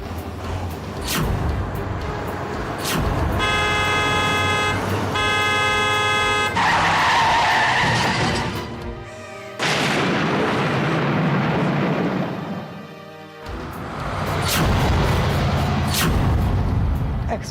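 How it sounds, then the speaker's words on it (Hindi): Car accident at night outside a house where a children's anniversary party is underway: tyres screech and skid loudly, followed by a heavy crash and rumbling impact noise, with a burst of noise afterward and no speech. "एक्सीडेंट की आवाज सुनकर हम सब बाहर आए"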